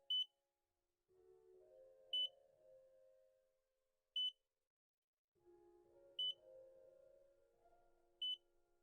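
In the horror game God's Basement, an alarm emits short, sharp beeps about every two seconds, steady and distinct over a faint, wavering ambient drone.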